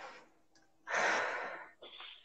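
One long, audible deep breath in, drawn close to the microphone during a psychology consultation, preceded by a faint short sniff and followed by a softer breath out, in a quiet room.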